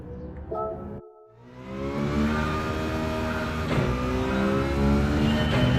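Citroen car engine racing in Gran Turismo 7, a steady loud drone that drops briefly, then climbs back and keeps revving with rising and falling harmonics through gear changes.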